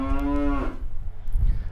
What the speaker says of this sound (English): Getting increasingly closer are the Jersey cows that they milk